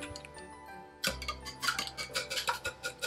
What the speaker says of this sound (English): egg yolks and the salt. So we're gonna just beat this together